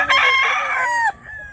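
A rooster crows once, loud and close, with a long wavering call that cuts off sharply, then quiet rural background remains.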